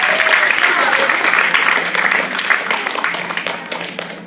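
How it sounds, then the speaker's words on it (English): A room full of people applauds the contestants of a VR dodgeball demo using the Oculus Rift, a dense, continuous wash of clapping that holds steady and thins slightly toward the end. "let's give the contestants a round of applause"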